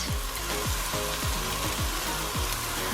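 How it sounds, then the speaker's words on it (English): Onions fry in a pan over medium heat, a steady bright sizzle with repeated scraping strokes of a utensil stirring them, close and even with no voices. "I'm cooking this over a medium heat, and I'm just stirring a little bit."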